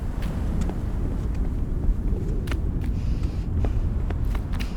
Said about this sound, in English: It could also be windy.